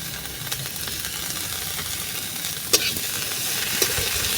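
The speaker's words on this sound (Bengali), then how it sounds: "দিয়ে ভালো করে ভেজে নেবো" Chopped cabbage mixture with chili powder and coriander fries in a pan, a continuous sizzle broken by scraping stir strokes and a couple of sharper clinks of the spatula against the metal.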